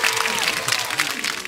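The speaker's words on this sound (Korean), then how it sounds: "저희 부장님 다 박수 하나로 맞이하겠습니다." Brief burst of applause from a small gathering welcoming a car-dealership manager, dense clapping close by with a little background chatter.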